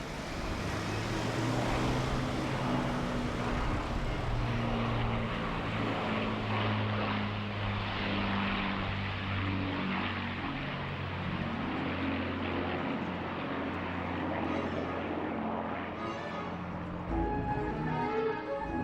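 Avro Lancaster PA-474 bomber of the Battle of Britain Memorial Flight drones overhead at an air display, its four piston propeller engines giving a loud, sustained, throbbing hum with shifting tones as it passes.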